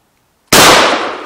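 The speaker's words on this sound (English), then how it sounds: "I'm gonna try the number 8 shot through the fence at this angle" A 20 gauge shotgun firing number 8 shot through a chain-link fence gives one sudden, very loud blast after silence, with a ringing tail fading over the next second.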